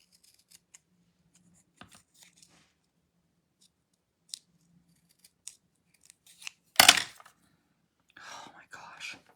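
Scissors snip through paper card during a watercolour stamping craft session, a few quiet separate cuts among soft handling clicks, with a louder close snip near the end followed by rustling.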